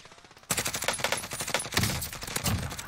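Rapid automatic gunfire in Call of Duty Warzone, loud and close, bursting in after a brief quiet lead-in and continuing in dense rattling volleys throughout.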